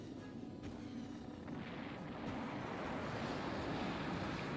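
A spread bomb explodes during island combat in the Battle Engine Aquila video game. Dense, rumbling blast noise fills the whole stretch, with sharper bursts layered in and no speech over it.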